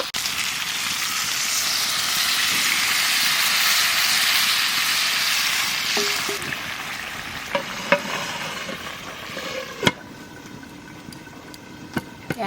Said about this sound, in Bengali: এইবার মশলাটা জল দিয়ে সেটাকে দিয়ে দেবো